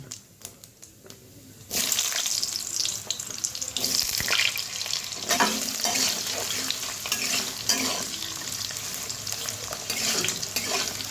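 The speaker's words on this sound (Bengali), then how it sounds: "গোটা জিরা এলাচ আর দারচিনি দিয়ে আলুগুলো আমি ছেড়ে দেবো" Potatoes hit hot oil with whole cumin, cardamom and cinnamon in a home kitchen, and a loud sizzle bursts in after a quiet start, then crackles steadily under occasional stirring scrapes.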